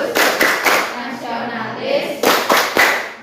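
A classroom of children claps in a rhythmic chant pattern, sharp group claps in short bursts and pauses, with kids' voices chanting between the claps.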